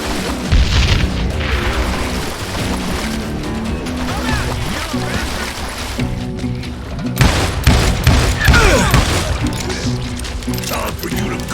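Gunfire in Call of Juarez Gunslinger, a chaotic run of loud shots and booming impacts mixed with crashes, while voices shout over the action.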